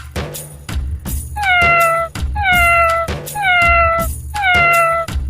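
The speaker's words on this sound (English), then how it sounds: "It's a cat." A cat meowing loudly and close by, four drawn-out descending meows in a steady repeating rhythm over a low background hum, with no voices.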